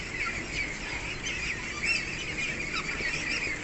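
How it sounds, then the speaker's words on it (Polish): Pekin ducks on a duck farm call together, a dense overlapping chorus of quacks and honks at close range that stays loud and busy throughout. "Jak tam kaczuszki?"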